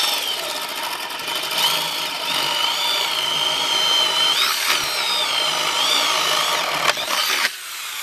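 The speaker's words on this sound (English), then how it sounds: "come down about 8 inches and drill a 1 inch hole" A power drill bores a 1 inch hole into wood, whining steadily at close range for several seconds before cutting off abruptly near the end.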